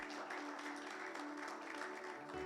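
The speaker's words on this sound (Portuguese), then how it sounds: "Vamos aplaudir ao Senhor." A church congregation applauds together during a Portuguese-language service, a steady, dense wash of clapping that holds at an even level throughout and then eases off slightly near the end.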